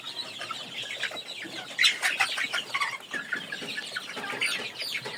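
Native chickens cluck and chatter on a farm in cold winter weather, a busy overlapping flock at moderate distance with a brief burst of louder calls and possible wing flutter partway through.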